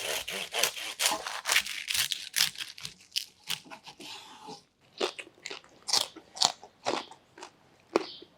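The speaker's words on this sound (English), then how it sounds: "now we'll get a slice so we can have a taste" A knife carves through a roast pork joint with crackling, giving a quick series of crisp crunching strokes, then a short pause and more spaced crunches, close and clear.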